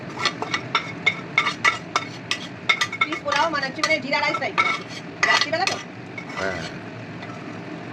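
Paneer butter masala is moved from one pot to another, with repeated metallic clinks, ladle scrapes and clattering cookware close by, then a quieter stretch with light background voices.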